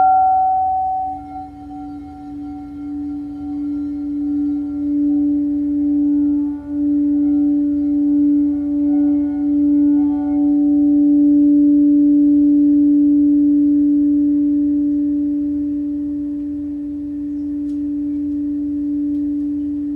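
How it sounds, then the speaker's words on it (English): Steady sustained tones for sacral chakra balancing, a smooth pure hum holding one main pitch with faint higher overtones that shift early on, slowly swelling and easing in loudness, with nothing else heard. "You will hear the frequencies of sacral chakra."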